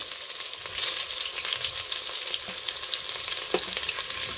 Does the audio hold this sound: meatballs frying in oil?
yes